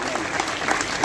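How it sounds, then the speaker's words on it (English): Audience applause for retirees being honored at a CSIR-SERC Diamond Jubilee celebration, a steady, even clapping from a seated hall that holds at one level for about a second. "Big round of applause, everyone."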